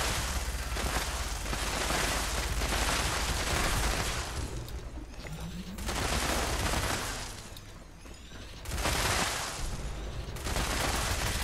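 Bursts of rapid explosive minigun fire from the video game Fallout 76 roar in long, dense volleys, each lasting a few seconds with short pauses between, loud and close.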